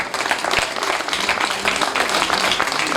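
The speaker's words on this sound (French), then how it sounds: "vous allez l'applaudir comme seul vous savez le faire, Kevin Besson." An outdoor audience claps at the final podium ceremony of the 2019 Tour des Landes cycling race in Aire-sur-Adour, France, the applause continuous and lively for a few seconds with no talking.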